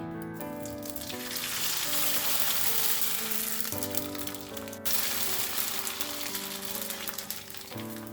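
Vadiyalu, sago and rava fritters, frying in hot oil: a dense, crackling sizzle like steady rain, close and continuous, with a brief dip and fresh surge partway through as pieces are moved, no talk.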